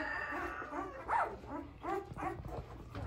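Excited puppies on a farm yip, whimper and bark in quick repeated bursts close by, several small high-pitched voices overlapping.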